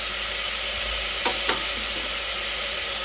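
Ginger garlic paste with cumin powder, garam masala and other spice powders frying in a pan, a soft continuous sizzle with a couple of brief stirring scrapes.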